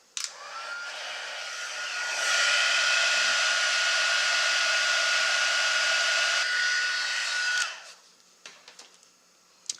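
A heat tool blows a steady, close whooshing stream while melting embossing powder on a mosaic craft piece, rising in strength after a couple of seconds and holding before switching off, followed by a few soft handling clicks.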